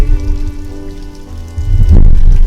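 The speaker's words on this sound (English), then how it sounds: "all the drops coming off of the moss and the mountain" Water drops falling from moss in a mountain forest after rain, a close, steady patter of dripping with a low rumble underneath, growing denser and louder toward the end.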